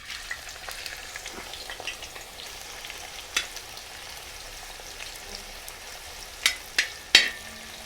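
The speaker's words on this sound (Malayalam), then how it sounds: "അപ്പോൾ അതിനു വേണ്ടി കുറച്ച് സവാള ഫ്രൈ ചെയ്തെടുക്കുക." Onions frying in a pan for a prawn and green gram rice dish, giving a soft steady sizzle with light crackles and a few sharper pops near the end, heard alone without voices.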